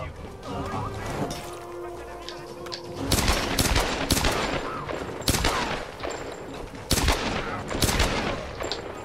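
Gunfire from the video game Tomb Raider: loud repeated bursts of shots and impacts crackling in clusters over a steady game background.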